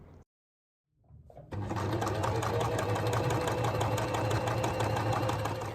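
After a short silence a sewing machine starts up and runs at a steady fast rhythmic hum, loud and close, stitching a sleeve onto a quilted jacket.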